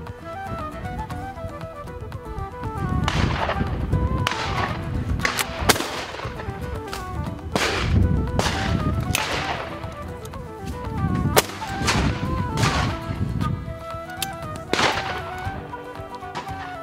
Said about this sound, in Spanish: Algunos tiros son muy espectaculares.